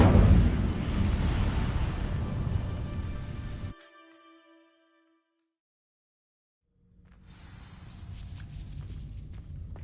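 An Incendio fire spell ignites dry vines in Hogwarts Legacy, a loud, dense roaring burst that holds for a few seconds, cuts off abruptly into near silence, then returns as a softer, steady rushing crackle.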